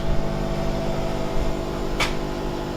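Steady broadband whooshing and humming of a Monport 60W CO2 laser cutter's air assist pump and exhaust fan running continuously, with a brief hissy burst near the end.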